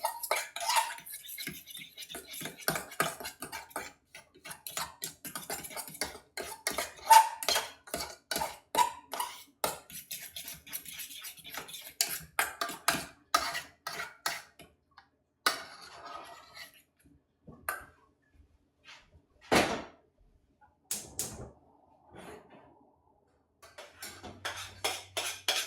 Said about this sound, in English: Have a good old stir around.